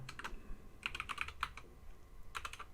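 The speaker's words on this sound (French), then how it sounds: "ensuite je vais taper code Java" Bursts of keystrokes on a computer keyboard while a command is entered to open Java code, clustered in short quick runs separated by pauses, close and fairly quiet, with no talking.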